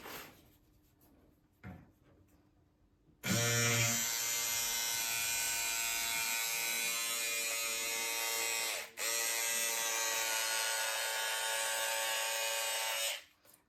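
Electric scissors with a buzzing motor cutting through cotton fabric, starting abruptly after a quiet moment and running steadily and loudly for about ten seconds with one brief break, no talking.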